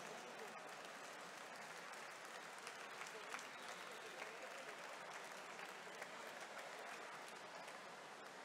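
Steady applause from a crowd greets medal-winning swimmers in the 50-metre freestyle at a podium ceremony, dense and continuous clapping throughout with no let-up.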